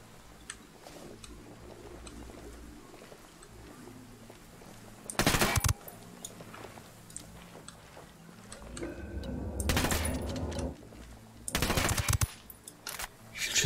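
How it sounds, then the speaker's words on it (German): Gunfire in the tactical shooter Ghost Recon Wildlands: several loud, short bursts of automatic fire over a quieter game background, with a louder cluster near the end. "Wie viele Schüsse hat der denn gebraucht?"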